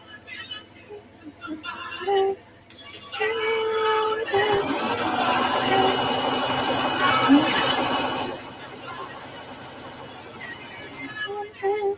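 A sewing machine whirs steadily for several seconds during a crafting session at home, starting and stopping abruptly, with a person talking before and after the run.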